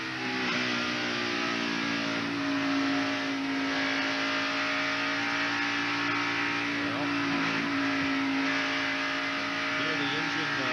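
A NASCAR Winston Cup race car engine at the 1991 Southern 500 drones loudly and continuously, its pitch easing down as the revs decrease.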